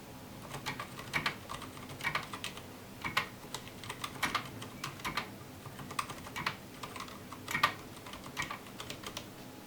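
Fingers type on a Ducky One mechanical keyboard with Cherry MX Silent Red switches and PBT keycaps, giving soft, muffled clicks in irregular bursts, quiet and close, with no voices.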